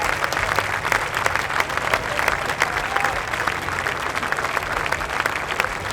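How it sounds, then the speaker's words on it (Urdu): Steady applause from an indoor audience at a sermon, many hands clapping densely and continuously at close range with a faint murmur of the crowd underneath. "اور ہم اس شریف آدمی کو اس کے لیے تالیاں بجاتے ہیں۔"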